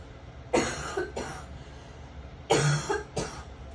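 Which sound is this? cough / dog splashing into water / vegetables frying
cough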